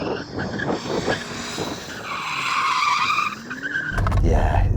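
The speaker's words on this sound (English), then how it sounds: "You warm up your tyres." BMW tyres skid and squeal loudly while being warmed up at a drag race event, a sustained screeching whine over engine noise, ending in a heavy engine roar.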